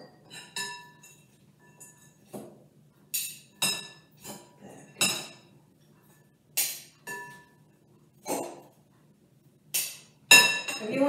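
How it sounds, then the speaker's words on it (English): Pistachio nuts, nigella seeds and coconut being added to carrots in a cookery demonstration, heard as a series of sharp clinks and taps of utensils against glass or dishes, about a dozen spaced knocks with quiet gaps between. "add the mixture of the pistachio nuts, the Nigella seeds, and the coconut"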